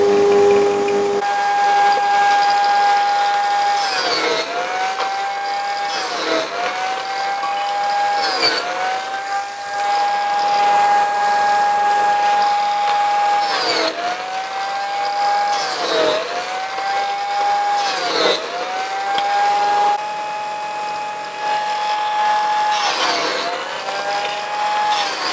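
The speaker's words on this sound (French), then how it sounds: "Donc chaque trait de scie va augmenter la rainure de 2 mm." A power saw cuts grooves in wood for a Warré beehive, a loud steady whine that dips in pitch each time the blade bites, repeating in several passes.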